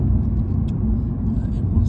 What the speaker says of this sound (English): here we've got a tractor and a few cars following